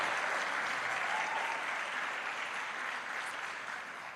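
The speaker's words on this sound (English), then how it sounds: "Can we applaud her again, please?" Audience applause fills a hall at the official launch of the Jamaica Legal Information Portal, a steady dense wash of clapping for someone speaker that holds at full strength throughout, tapering only slightly at the end.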